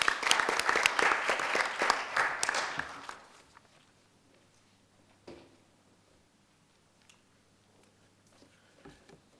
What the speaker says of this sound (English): So I want to give you a round of applause for what you do,